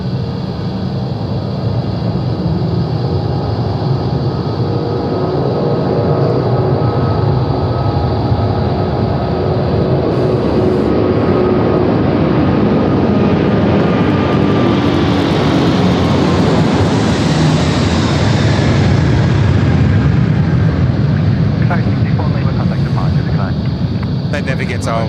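A heavy jet airliner passes close at Sydney Airport at night, its engine roar steadily building to a loud peak and then easing away, with people talking over it.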